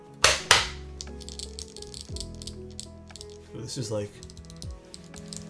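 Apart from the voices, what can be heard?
typing on Zoom75 TIGA mechanical keyboard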